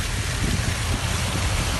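Heavy rain pours down in Sharjah, UAE, a loud, dense and continuous roar of water with no breaks and no voices.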